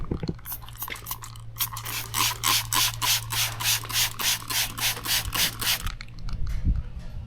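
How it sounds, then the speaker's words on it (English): Rapid trigger pumps of glass cleaner spray onto a car window in a quick, even burst of hissing squirts that lasts several seconds, followed by a brief rustling handling noise at the end. "Let's give this baby a spray and see what she can do"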